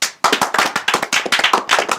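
A small group claps briskly and unevenly at close range, a quick burst of hand claps starting after a short pause and continuing for under two seconds.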